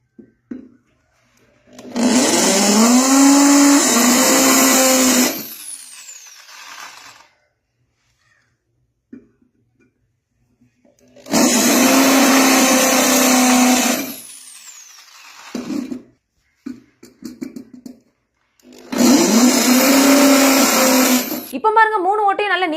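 An electric drill bores 4 mm holes in a three-burst sequence, each a loud, steady high whine lasting a few seconds and then cutting to near silence.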